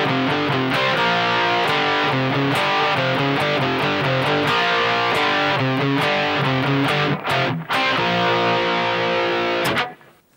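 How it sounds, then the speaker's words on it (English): Second guitar part of a song on distorted electric guitar, a continuous stream of rapid picked notes and chords, loud and alone, with brief gaps near the end before ringing out. "here's the entire part for the second guitar."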